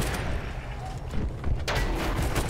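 Heavy gunfire and booming artillery from a Battlefield 1 Conquest match at Amiens, a continuous dense barrage of loud blasts with a sharp report near the midpoint, mixed with faint voices.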